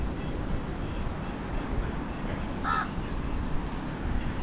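A crow caws once on a Maldives beach, a short, harsh call rising briefly above a steady wash of wind and surf.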